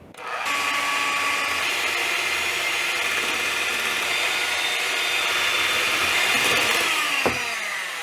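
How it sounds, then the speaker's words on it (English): Electric hand mixer with a whisk attachment whipping buttercream at high speed, a steady close whirring drone that runs without a break and ends with a brief clatter. "it just a little bit with my whisk attachment with my hand mixer. We want to whip this."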